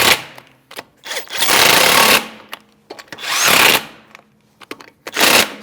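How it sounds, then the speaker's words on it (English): Power tool bursts while a 19mm socket snugs down lug nuts on a Chevrolet Malibu wheel in a crisscross star pattern, several loud whirring runs of about a second each separated by short pauses and clicks. "Take your 19mm socket and snug them up."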